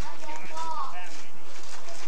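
Horse hooves clip-clop at an Arizona western-town attraction in a brief run of hoof falls mixed with crowd noise and nearby talk.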